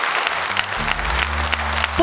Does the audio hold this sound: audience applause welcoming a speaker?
yes